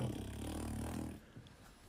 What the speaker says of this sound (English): Do you mind, dog?